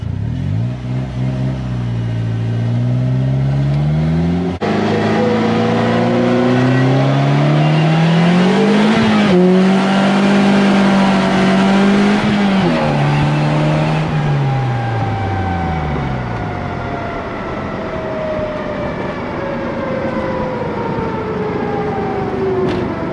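Polaris Slingshot SLR three-wheeler driving and accelerating hard, a loud close engine whose pitch climbs through several gear changes before it eases off and coasts, with faint tire noise.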